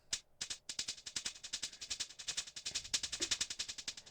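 A rapid, stuttering train of sharp repeated hits processed through delay, panning, granular and filter effects, evenly pulsing and shifting in tone for several seconds.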